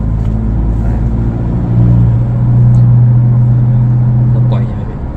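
Remapped Ford Ranger XL+ 2.2 manual pickup accelerating in fourth gear, with a loud, steady low engine drone close by that swells through the middle and eases off at the end.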